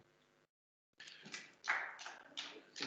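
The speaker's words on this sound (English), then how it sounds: "I couldn't hear for all the applause" Applause rises at a council infrastructure committee meeting: after a short silence, a crowd's clapping swells in a few uneven waves, fairly faint and distant, with no talking over it.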